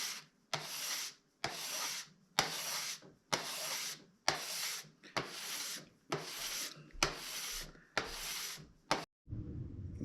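A hand scraper drawn across a wooden serving tray in about ten long, even rasping strokes with short gaps between, close and loud, ending in a low rustle.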